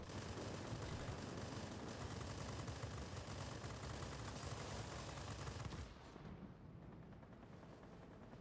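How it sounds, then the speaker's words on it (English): In the Warplanes video game, an enemy ground-attack aircraft's rear gunner fires a dense, continuous stream of machine-gun bursts that roar steadily for about six seconds, then drop to a lower rumble. "The ground attacker is really going for us with his rear gunner."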